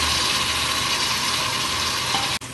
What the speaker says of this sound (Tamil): இப்போ நம்ம தக்காளியை போட்டுக்குவோம். அதுலேயே புதினாவையும் போட்டு நல்லா வதக்கிக்குவோம்.